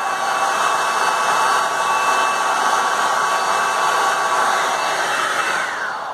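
An Avon hot air drying and straightening brush runs continuously at close range, a steady loud blowing whir with no talk, easing slightly at the end.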